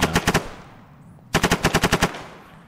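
Gunfire in the video game Arma 3: a short burst of four rapid shots, a pause of about a second, then a longer burst of about eight shots, loud and close with a fading echo.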